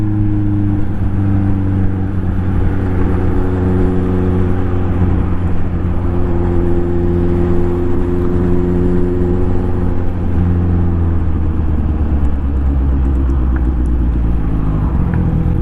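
A motorcycle rides through heavy evening city traffic, its engine droning steadily and close throughout, with a low rumble and slowly shifting engine tones as it moves along the busy road.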